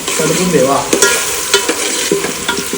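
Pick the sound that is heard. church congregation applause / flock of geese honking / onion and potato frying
onion and potato frying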